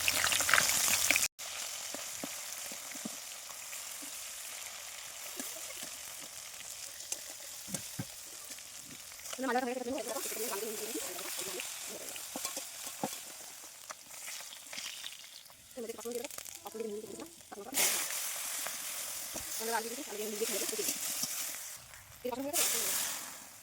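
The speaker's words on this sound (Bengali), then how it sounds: "আর এদিকে দেখো মাছ ভাজাটা" Fish sizzles steadily in hot oil in a pan on a home stove and is flipped partway through, a constant crackling hiss with brief louder bursts and a voice talking over it at times.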